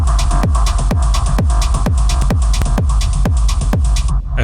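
Mastered electronic track plays loud and dense, a steady four-on-the-floor kick thumping about twice a second under bright sustained synths and hats, with no voices.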